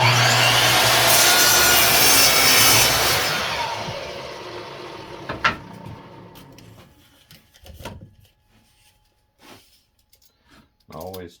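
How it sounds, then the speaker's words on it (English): Hand saw cutting wooden boards to 5 7/8 inches for a windmill planter, a loud steady rasping stroke for the first few seconds, then fading into scattered knocks and handling clatter. "Now I got to cut 2 boards at 5 7/8 of an inch."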